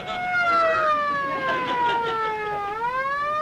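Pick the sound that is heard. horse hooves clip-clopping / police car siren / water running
police car siren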